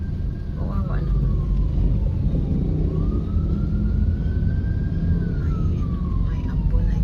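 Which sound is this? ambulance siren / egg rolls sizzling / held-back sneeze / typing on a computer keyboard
ambulance siren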